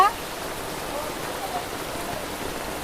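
Steady rain falls continuously outdoors with the wind up, a dense even hiss filling the whole stretch without breaks.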